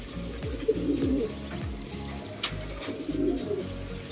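Pet pigeons coo in low, rolling repeated calls close by, several soft throaty phrases overlapping with faint background rustle and no talk.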